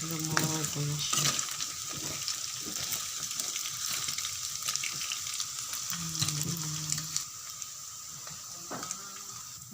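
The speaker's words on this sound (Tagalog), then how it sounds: "Patuloy tayo sa pagluluto ng fishball." Fishballs deep-frying in oil, a steady close crackling sizzle broken by occasional metallic clinks of a utensil stirring the pan.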